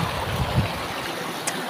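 A small river stream at Para in Okhaldhunga near the Sunkoshi rushes in a steady, fairly loud broadband flow, close by and uninterrupted, with no voices.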